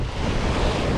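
Strong ocean waves crash on the shore during a fishing trip, a loud, close, continuous roar of surf mixed with heavy wind buffeting the microphone.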